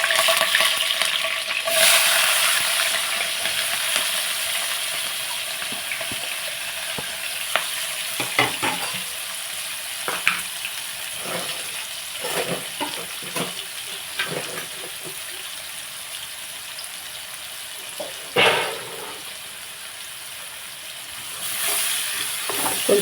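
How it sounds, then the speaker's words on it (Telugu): Curry tempering sizzles hard in hot oil in a pan that was just used for frying chicken, a loud steady hiss broken by scattered crackles and occasional stirring scrapes throughout. "అది తీసేసి అందులోనే కూర తాలింపు పెట్టేస్తున్నాను"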